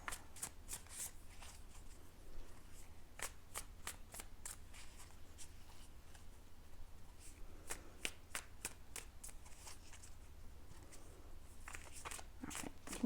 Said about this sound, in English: So we're going to pull some more cards here.